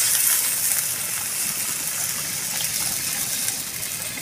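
Water pours steadily into a pot of sautéed chicken with a continuous rushing, splashing hiss lasting several seconds.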